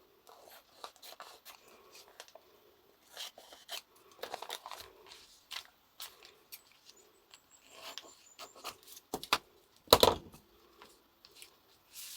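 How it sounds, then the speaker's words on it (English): Scissors trim the sides and snip across the corners of paper for a handmade journal, giving a run of close, crisp cuts and rustling handling with one sharp loud snip near the end. "Just going to trim these sides down just a fraction. Cut across the corners."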